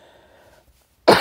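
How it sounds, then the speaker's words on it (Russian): A quiet, hushed room followed by a single sharp, loud cough bursting out near the end, from a person sick with a high fever. "иначе сейчас раскашляюсь"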